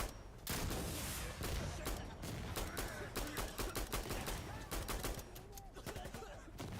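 Rapid bursts of automatic gunfire in a video game firefight crackle almost nonstop, dense overlapping shots with a few brief pauses between volleys.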